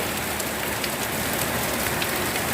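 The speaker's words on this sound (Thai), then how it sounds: "ข้ามาเบิ้งฝนตกแดดออกนี่แหละค่ะ" Rain falls steadily while the sun shines, a loud, even hiss of drops pattering on a surface close by, with no voices.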